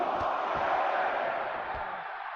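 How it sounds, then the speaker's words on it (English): Wrestling arena crowd in the video game WWE 2K24 roars with a dense, sustained wash of cheering throughout, easing slightly toward the end, with a few low thuds underneath. "the crowd, you can hear them, they're getting fired up"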